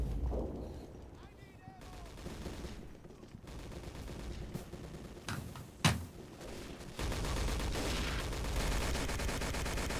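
Bursts of machine gun fire in a war video game around a church, with distant shots, one sharp close blast and continuous battle noise under a player's talk.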